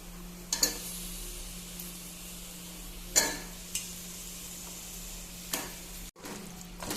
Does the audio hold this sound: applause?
no